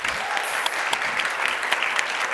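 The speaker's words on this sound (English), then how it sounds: "So a big round of applause for them too." An audience claps steadily, a dense patter of many hands applauding at moderate volume throughout, with no voices.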